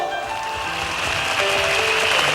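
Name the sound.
audience applause at a concert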